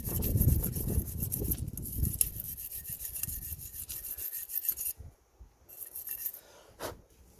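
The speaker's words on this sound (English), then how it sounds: "before we fit it in, we're gonna clean it with the wire brush" A wire brush scrubs the rear brake caliper carrier of a Kia Ceed where the pads sit, giving close, dense rasping strokes in quick bursts that ease off midway and return in short scrapes.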